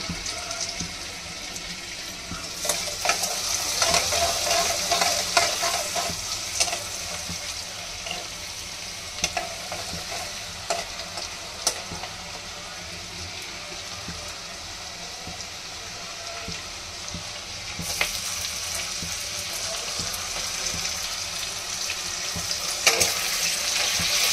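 Shrimp and chicken fry with julienned ginger in a hot pan, a continuous loud sizzle with repeated scraping and stirring strokes, briefly quieter midway before the frying surges again.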